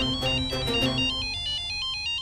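A mobile phone rings with an incoming call, playing a melodic electronic ringtone of repeating bright tones, clear and close with nothing else heard.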